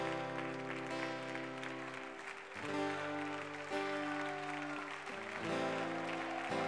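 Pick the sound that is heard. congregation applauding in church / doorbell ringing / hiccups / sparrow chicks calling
congregation applauding in church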